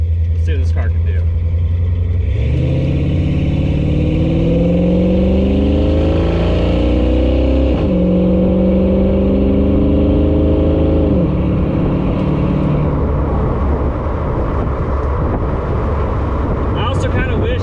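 A 1992 Ford Mustang with automatic gearing, engine running cold, idles and then revs hard as it accelerates through rising and shifting tones, before easing back to a steady drone, loud and close.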